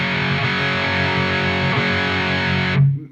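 Sustained distorted electric guitar chord through an ENGL Steve Morse Signature 20 tube amp, loud and thick with rich harmonics, ringing steadily before being cut off abruptly near the end.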